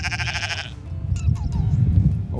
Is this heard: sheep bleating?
yes